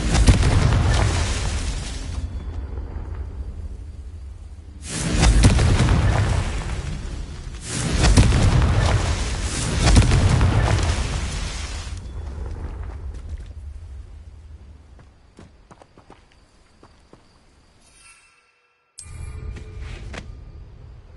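Spell explosions from the Confringo fireball in a Hogwarts wizarding video game, heavy booming blasts in several loud bursts with sustained rumbling and crackle between them, then a fade to near silence and a final burst.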